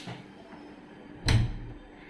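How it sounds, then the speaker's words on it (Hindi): A door being shut indoors at home gives a single dull thud with a short rumble, heard alone against quiet room tone. "फिर से दरवाज़ा बंद कर लिया।"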